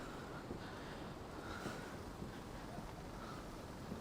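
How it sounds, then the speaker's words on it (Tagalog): Strong wind at a glass bridge in Vietnam buffets the microphone in a continuous, roaring rush with gusty swells, loud and close, with no voices. "Yung hangin sobrang lakas."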